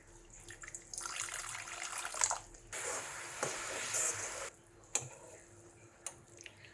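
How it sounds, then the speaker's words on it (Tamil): Water is poured into a pan of ginger curry (inji puli) in a home kitchen, giving bursts of splashing and trickling that start and stop, with a quiet tap between pours. "இதில் இப்போ கொஞ்சம் கூட நான் தண்ணி சேர்க்குறேன்."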